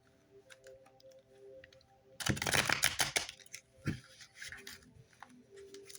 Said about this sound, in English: One more time, one more extra shuffle.